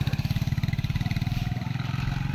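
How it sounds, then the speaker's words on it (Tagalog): A motorcycle engine thumping with a fast, steady pulsing beat, close and fairly loud, as the bike heads off into forest in rural Palawan, Philippines. "Sumuksok na sa gubat ang motor niya, master."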